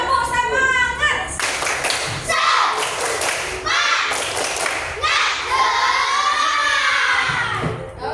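Students in a classroom clap together enthusiastically in a rhythmic burst, with children's voices and shouting mixed in over several seconds.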